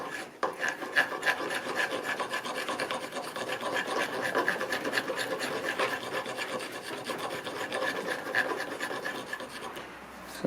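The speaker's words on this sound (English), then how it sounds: "I just got one of these like half round wood rasps, and that rasps it out really good" A half-round wood rasp filing wood while building a seat riser for an Old Town Topwater PDL kayak: continuous rhythmic rasping strokes, close and fairly loud, with no talk.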